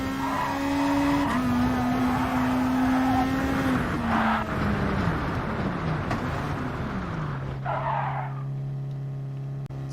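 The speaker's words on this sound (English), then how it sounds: "where I tried to go flat out through here and I spun off into the gravel" GT Sport race car at Suzuka going flat out and spinning off into the gravel: a loud engine note dropping through gear changes, with tire squeal and skidding as the car slides off.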